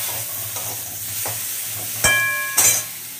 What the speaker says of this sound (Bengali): তাই জন্য আমি তাড়াতাড়ি করে আলুটা বসিয়ে দিয়েছি ভাজতে